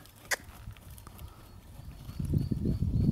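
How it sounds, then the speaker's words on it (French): Pony trotting on an arena track during show rehearsal, soft hoof beats growing louder and closer toward the end, with a sharp knock early on. "Il y a toujours un poney, tu dois être sur la piste Valentine"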